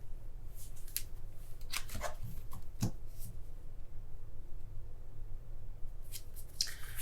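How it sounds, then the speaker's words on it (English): Tarot cards being shuffled by hand, with soft papery riffles and taps scattered over a low steady hum, fairly quiet and close with no talking. "We're going to keep shuffling."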